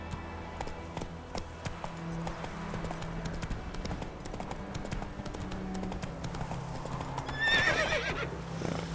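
Horse Roach from The Witcher 3 gallops with steady clip-clop hoofbeats, then gives a loud neigh near the end, set against a low ambient game soundscape.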